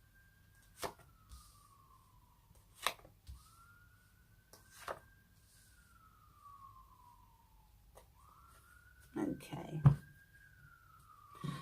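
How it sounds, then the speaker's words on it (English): Police sirens outside a window wail in slow rising and falling sweeps, faint and distant, with sharp clicks and a brief whisper-quiet voice speaking near the end. "I do apologise if you can hear the sirens outside my window."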